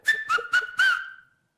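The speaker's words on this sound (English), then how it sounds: "Maybe you can whistle." Four short whistled notes from the mouth, the last one held longer, clear and close with nothing else around.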